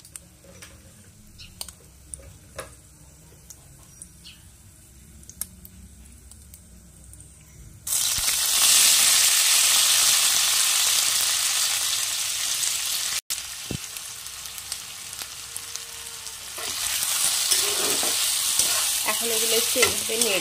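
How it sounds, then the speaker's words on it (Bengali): Drained spaghetti drops into hot white oil in a wok, setting off a sudden loud, dense sizzle that holds steady and then swells again as the noodles are stirred; quiet clinks come before it. "এখন এর মধ্যে জল ঝরিয়ে রাখা স্প্যাগেটিগুলো দিয়ে দেব।"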